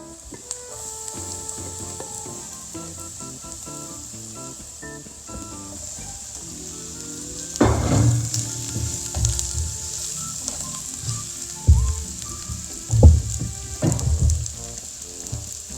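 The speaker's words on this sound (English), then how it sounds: "we're gonna start sauteing our onion, our garlic, with the rest of the ingredients" Onion and garlic sauté in a pan with sun-dried tomatoes, spinach and Parmesan, giving a continuous bright sizzle under faint background music that swells into louder crackling and stirring bursts in the second half.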